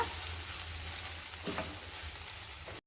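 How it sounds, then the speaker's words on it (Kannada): Onions softening as they fry in a pan, a soft continuous sizzle at close range with a brief scrape of stirring midway, fairly quiet and with no voices. "ಈರುಳ್ಳಿ ಇನ್ನೊಂದು ಸ್ವಲ್ಪ ಮೆತ್ತಗಾಗಿ ಚೆನ್ನಾಗಿ ಫ್ರೈ ಆಗಬೇಕು"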